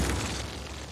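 Building demolished in Cities: Skylines, a muffled game explosion with a deep, rumbling boom that fades slowly over a second, no voices.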